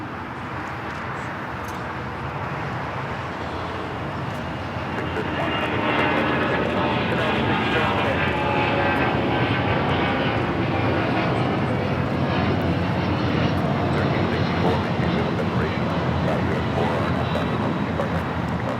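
A Delta Air Lines Boeing 757-200 takes off from LAX, its jet engines rising to a loud, steady roar after about five seconds and holding strong, with faint talk underneath.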